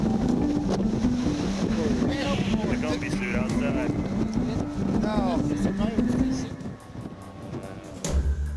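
A disabled fishing vessel in an Alaskan storm, pounded by 10 to 15-foot icy waves: a constant roar of wind and engine rumble with surging water crashes. A narrator speaks steadily over it before the noise briefly drops and returns.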